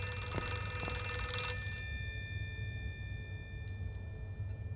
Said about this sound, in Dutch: daar is waarschijnlijk de telefoon die rinkelt